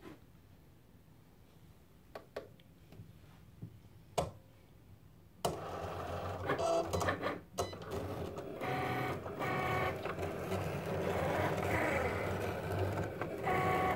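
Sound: Cricut machine cutting pebbled leather

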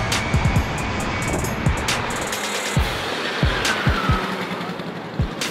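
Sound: two 50cc two-stroke mopeds drag racing

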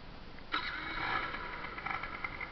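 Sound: 2008 Genuine Rattler 110cc scooter engine starting

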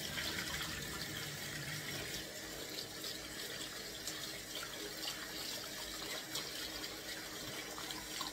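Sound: tap water running, washing vinegar off fish

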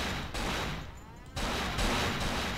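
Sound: gunshots in the video game Cold Fear

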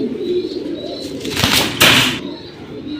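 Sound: military silver pigeon

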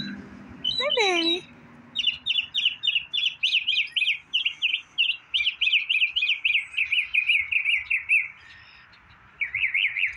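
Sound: mockingbirds singing

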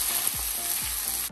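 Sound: thin pork Filipino adobo frying in pan

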